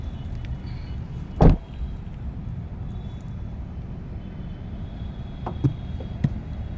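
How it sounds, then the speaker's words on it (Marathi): A car gives one sharp lock clunk, then two short chirps follow a few seconds later over a quiet outdoor hum. "पहिला ना गाडी लॉक करते"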